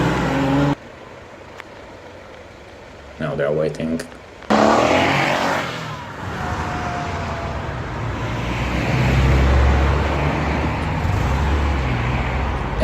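Porsche sports cars, including older 928s, leave a car event, their engines rumbling and revving at moderate distance amid outdoor traffic noise, with a few brief stretches of people talking.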